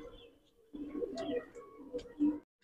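A pigeon loft holding Madrasi birds, including Rampuri hens, fills with low, close cooing that rises and falls in several bursts, ending in one stronger coo.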